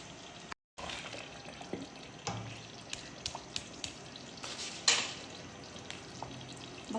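Mutton gravy, a white Mughlai dish, is stirred in a pan as it fries, with a soft steady sizzle and faint scraping and clinking strokes, quiet and close.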